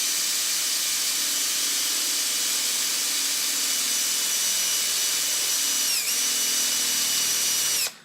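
A power drill boring a hole through a plastic GoPro case in a garage, a continuous high whine and hiss held for about eight seconds with a slight dip near the end, loud and close, no talking.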